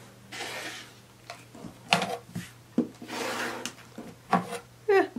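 Scissors or a rotary cutter slicing a quilt fabric panel into 7.5 inch sections on a cutting surface, heard as soft rubbing and scraping strokes with a few sharper close clicks and snips.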